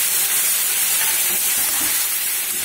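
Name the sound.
ground onion, garlic, ginger, chilli paste sizzling in pan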